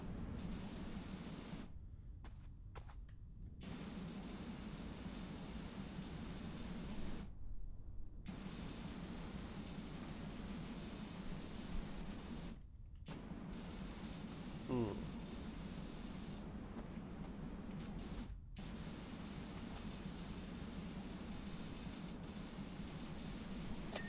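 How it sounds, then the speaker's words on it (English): Pressure washer spraying in the video game PowerWash Simulator, a steady broadband hiss running continuously with a few brief cutoffs where the spray stops, with someone talking over it. "Now I'm just like kind of spraying stuff to see what still needs to get cleaned"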